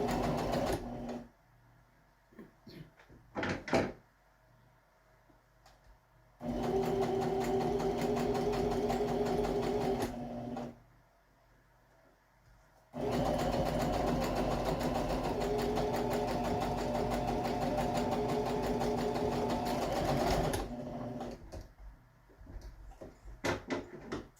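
A home sewing machine stitches fabric onto a one-panel pillow in two long, steady whirring runs separated by quiet pauses filled with soft handling clicks and rustles, close and even.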